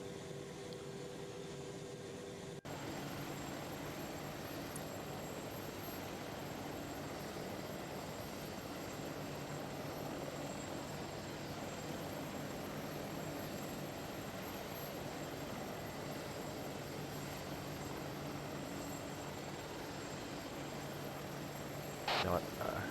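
An Apache helicopter in the game Arma 3 flies with a steady, sustained engine and rotor roar that holds at an even, moderate level for most of the stretch, with voices talking over it at times.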